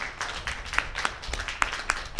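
Audience clapping at a church sermon, a scattered run of sharp hand claps, close and moderately loud, with no talk over them.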